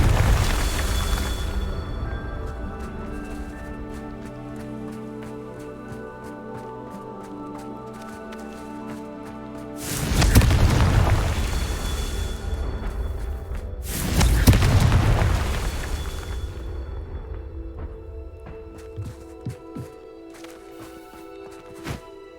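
Confringo spell blasts in Hogwarts Legacy: two loud, booming explosions a few seconds apart, each with a rumbling tail, rising over steady tonal game music.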